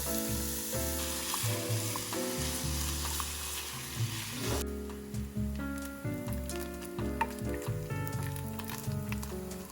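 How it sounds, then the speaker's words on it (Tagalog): Bacon bits fry in a pan until crispy, giving a steady close sizzle and crackle throughout, with tonal background sounds running alongside. "The bacon bits, I already fried them. I fried them till crispy."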